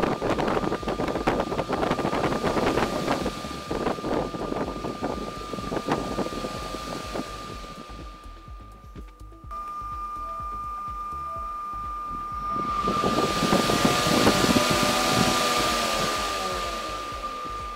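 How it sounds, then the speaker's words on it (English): Single phase motor on a potentiometer speed controller hums with a steady tone that dips and then rises again as the speed changes, accompanied by a whooshing airflow. "Now I start rotating knob to change the speed of motor."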